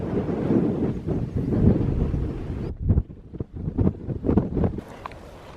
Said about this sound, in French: Il n'y a que le bruit du vent ici.